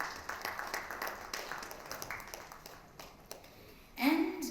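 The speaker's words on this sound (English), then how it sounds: "all of you, give a big round of applause." A conference audience at a fireside chat gives a round of applause, a sustained clatter of many hands that thins toward the end before a brief voice cuts in.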